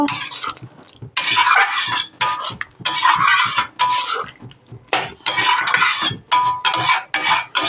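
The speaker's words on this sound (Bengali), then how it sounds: "আমি এখানে কিছু ধনিয়া কুচি দিয়ে দিচ্ছি তো আমি এটাকে ভালো করে নাড়িয়ে নেব" A spoon stirs soybean curry with chopped coriander in a pan, scraping and clinking in repeated loud bursts separated by short pauses, close and with no talk.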